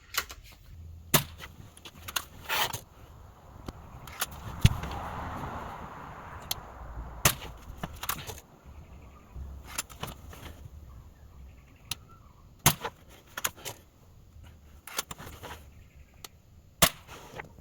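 Ruger Air Hawk air rifle firing pellets at a target, with sharp close snaps spaced through a quiet outdoor setting, roughly a dozen cracks of varying strength.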